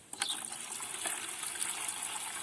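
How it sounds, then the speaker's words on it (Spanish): Excess water is poured off a mixture of clay and garden soil, a brief watery trickle and splash with a few small clicks, close by and fairly soft, with no talking. "Sacamos el agua excedente"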